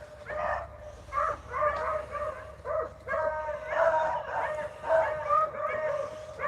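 Young beagles chasing a rabbit bay and yip again and again, an uneven run of high, ringing cries that overlap at moderate distance over several seconds.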